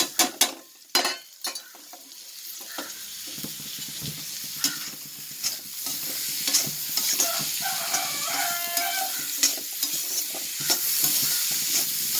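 Onions going into coconut oil in a pan for a prawn roast, frying with a steady sizzle and repeated clanks of stirring, close and fairly loud, with no talk.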